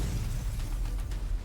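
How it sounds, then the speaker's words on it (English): A loud explosion in a Girls Frontline 2 video game cutscene, where robots are blown apart. It comes as a dense, sustained roaring blast with crackling bursts layered through it. "The following loud explosion"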